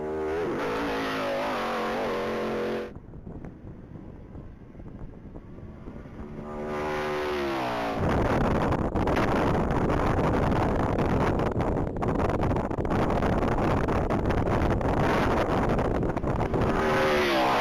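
A 2006 Ford Fusion on a standing-mile top-speed run at the Texas Mile, engine droning as it accelerates through rising gear pulls with a brief dip at a shift, then a sustained loud roar with wind buffeting.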